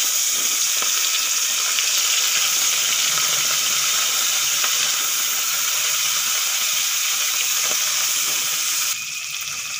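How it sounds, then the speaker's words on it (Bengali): Chanda fish frying in hot oil in a wok, a loud steady sizzling hiss that carries on unbroken and dips slightly in level near the end. "তেল গরম হয়ে গেছে, মাছগুলো ভেজে নেব।"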